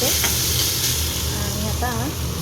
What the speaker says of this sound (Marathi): पहिला इथं बटाट्याचं किस जरा परतून घेते